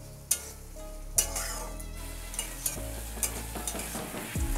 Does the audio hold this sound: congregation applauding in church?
no